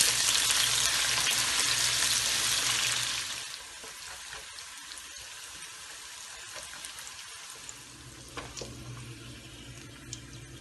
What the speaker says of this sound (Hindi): तेल डालेंगे, प्याज डालेंगे, इसको गोल्डन करेंगे।